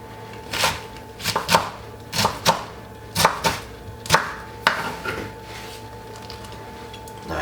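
A knife chopping tomato into big chunks on a cutting board, crisp close knocks in uneven pairs and clusters, about a dozen strikes with brief gaps, no voices.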